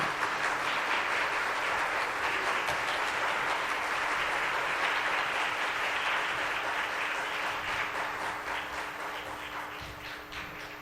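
A congregation at a Korean church anniversary worship service gives warm applause to welcome a division head to the podium. The clapping is dense and steady for about eleven seconds, then eases slightly toward the end.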